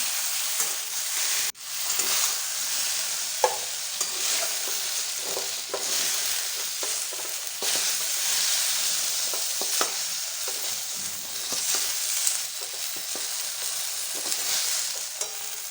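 Whole jujubes are stirred and fried in a pan for a tomato jujube chutney, giving a steady, close crackling sizzle with repeated scraping stirs and no talk.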